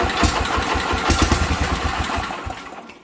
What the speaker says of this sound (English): So I will try to start it.